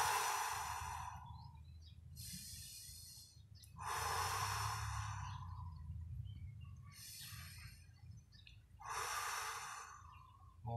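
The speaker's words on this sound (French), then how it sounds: "J'inspire, j'expire profondément" Deep, slow breaths during a Pilates exercise, three long airy exhales and inhales repeating at a steady rhythm, close and fairly loud over a low hum, with no talking.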